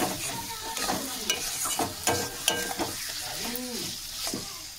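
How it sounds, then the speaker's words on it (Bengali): Chopped tomato stir-fried with spices in hot oil for a pangas fish oil-and-chili curry: a steady sizzle and crackle broken by repeated spatula scrapes and clacks against the pan, close and continuous, with no talking. "এবার এর মধ্যে দিয়ে দেবো টমেটো কুচি। টমেটো কুচিটা গলে যাওয়া পর্যন্ত আমি খুব ভালোভাবে কষিয়ে নেব।"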